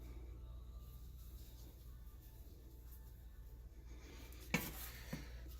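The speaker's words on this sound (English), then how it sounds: "Just mix this around." A spoon stirs sugar and cinnamon together in a pot, making faint, quiet scraping and rustling, then one sharp utensil clink against the pot near the end and a softer knock after it.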